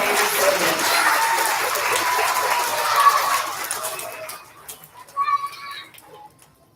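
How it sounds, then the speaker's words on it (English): Audience applause for student award recipients at an elementary school recognition ceremony, a sustained wash of clapping that gradually thins out and fades, with a few scattered claps and faint voices near the end. "Let's give a round of applause to our 3PK recipients."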